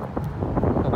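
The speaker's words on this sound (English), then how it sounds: "A bit windy up here." Gusty wind buffets the microphone on open farmland, a steady low roar with rough bursts throughout the short stretch and no clear voices.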